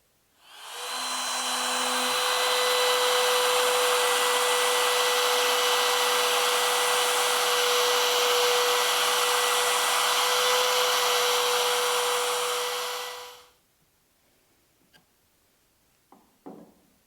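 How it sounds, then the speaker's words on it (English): A plunge router cuts mortises in wood for a king size bed frame, its loud steady high-pitched whine holding for about twelve seconds before winding down, followed by a few faint clicks and knocks. "just a plunge router and cut these mortises"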